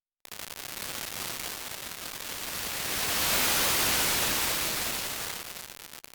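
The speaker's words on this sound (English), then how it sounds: "On the left we have the gritty noise section, which is some sort of clocked grain generator" Gritty clocked-grain noise from the Noise Plethora module in VCV Rack 2 gives a dense, hissing static texture that swells louder toward the middle and then eases off, steady and alone.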